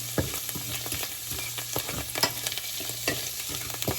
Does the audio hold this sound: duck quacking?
no